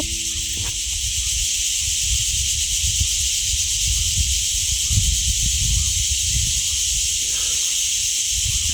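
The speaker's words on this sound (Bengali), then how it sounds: "এটা ঝিঝি পোকার ডাক।" Crickets on a mountain route between Bhairavkund and Sangti Valley chirp in a dense, steady high-pitched drone that fills the whole stretch without a break, with low rumbling underneath.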